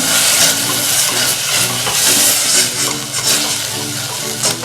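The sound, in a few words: chili being heated and stirred in a pan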